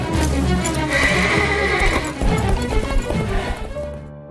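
A horse gives a loud, drawn-out whinny over pounding hooves, the galloping close and continuous beneath a dramatic film soundtrack before fading toward the end.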